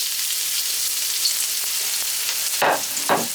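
Onions fry loudly in hot oil on high heat for chicken fried rice, a dense close-up crackling sizzle punctuated by two quick scraping stirs near the end.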